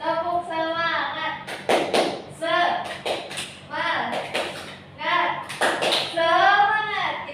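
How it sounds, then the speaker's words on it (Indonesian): A school class does a rhythmic spirit clap, with sharp group hand claps and thuds in short bursts between children's chanting voices. "Tepuk semangat"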